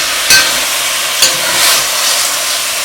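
Beef chunks frying in a pan under a bright, steady sizzle, with two quick scraping strokes of the stirring spoon standing out close by.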